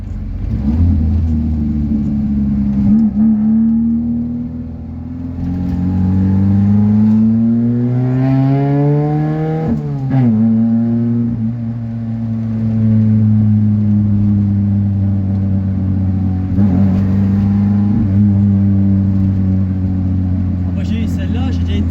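A Ford Fiesta pulling in fifth gear, its engine drone rising steadily in pitch as it accelerates, easing off briefly and then holding a steady hum, with people talking inside the car over it.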